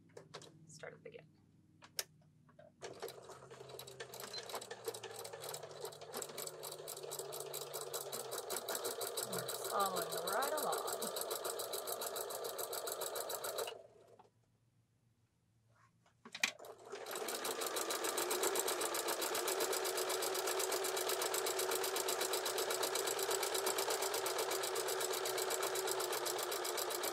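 A sewing machine stitches a pillow seam on a boxed-corner zippered pillow in a long, fast-running burst. It falls silent for a couple of seconds, then starts again for another sustained, evenly buzzing run.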